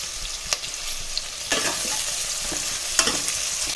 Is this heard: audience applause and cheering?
no